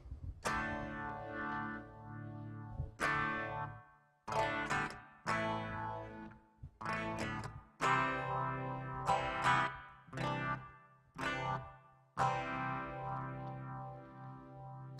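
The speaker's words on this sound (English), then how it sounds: "that would be the clean with the Silokybe going through the Aphex and then the EQ and then the reverb" Clean electric guitar run through a Blackstar HT-5 emulator, then an Aphex exciter, EQ and reverb, playing ringing chords and picked phrases in bursts with short gaps and reverb tails, close and clear.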